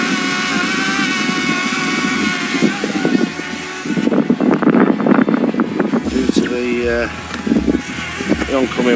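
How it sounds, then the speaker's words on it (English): Strong oncoming wind buffets a flying drone in sport mode, a loud continuous roar with breathy gusts and shifting motor whine throughout. "The oncoming wind."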